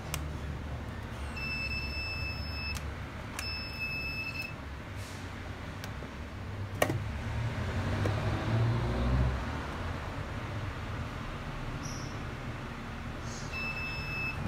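A continuity tester buzzer sounds across a fully shorted iPhone 6 logic board with a VCC main short to ground, giving a few sustained high beeps of a second or so each over steady background hiss and low hum.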